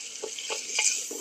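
Spice tempering frying in a pot for khichdi made with ration rice, with onion, tomato and coriander added, a soft hiss under several rhythmic stirring scrapes, close and moderately quiet.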